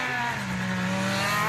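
A Citroën BX rallycross car with a Peugeot 205 T16 Pikes Peak engine roars loudly and steadily, close by, with a harsh rasping exhaust note and flames from the exhaust.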